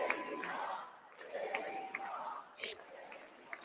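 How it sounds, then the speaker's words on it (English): Large convention crowd cheering and shouting at a national political convention, a dense roar that swells and surges in waves, with close voices talking over it. "Oh, God, listen to this crowd."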